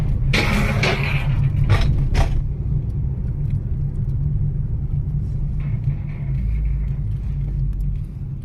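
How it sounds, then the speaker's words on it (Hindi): A vehicle approaches on a road in Nubra Valley, Ladakh, near the Nubra River: a steady, loud engine rumble and road noise that swells and holds throughout, with a few brief clattering bursts near the start and no talk. "एक गाड़ी आ रही है।"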